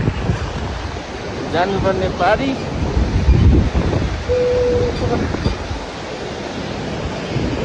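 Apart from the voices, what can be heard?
river flowing below trail, coming down from Everest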